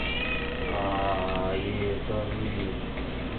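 Kitten meowing in short tonal cries, close by, with a steady mechanical hum and faint ticking underneath.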